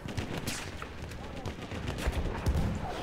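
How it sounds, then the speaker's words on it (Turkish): Battlefield 1 gunfire, a steady stream of shots rattling at moderate distance with scattered heavier thumps, with no voices heard. "Biri sıkıyor ama."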